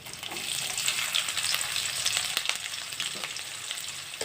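Thinly sliced onion with a little cashew frying in a pan, a steady close sizzle with crackling hiss that runs alone throughout.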